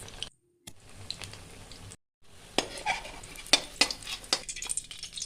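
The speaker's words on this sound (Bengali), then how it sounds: "মাখানো হয়ে গেলে গরম তেলের মধ্যে দিয়ে ভেজে নিন।" Spinach pakoras frying in hot oil give a steady sizzle with sharper bursts and crackles, a brief pause mid-way, and some clinks of a utensil against the pan; no voices.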